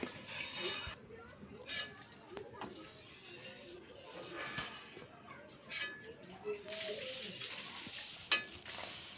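Sago pearls frying in hot oil give a continuous close sizzle with intermittent stirring scrapes, under a voice speaking.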